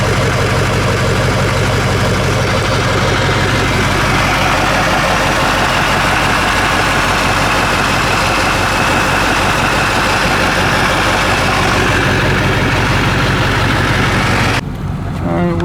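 A Chevy truck engine with a blown turbo, oil just cleared from the intercooler, runs loud and close in a garage at a rough, churning idle, the heavy drone holding steady until it drops off abruptly near the end.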